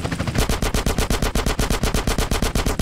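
Rapid automatic gunfire in GTA San Andreas, aimed at a crate, comes as a loud, close, evenly spaced burst of about twenty shots that starts almost at once and runs unbroken to the end.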